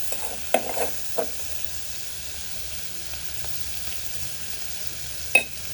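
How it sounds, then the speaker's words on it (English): Daga omena frying in a little oil in a cooking pot, a steady soft sizzle with a few sharp scrapes and knocks of a spoon stirring near the start and once more near the end. "And I'm using this spoon because it sticks on the cooking pot."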